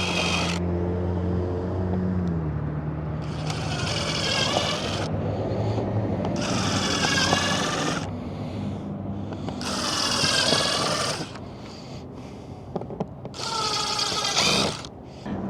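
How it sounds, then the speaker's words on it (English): A power drill whirs in four bursts of a few seconds each, separated by pauses, over a steady low background rumble. "I'm going to start by drilling some holes here."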